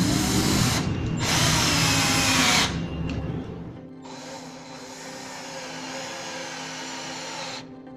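A power drill drives a screw into a melamine cabinet, whirring loudly and close in two sustained bursts, the second longer and steadier after a short break, with no one speaking.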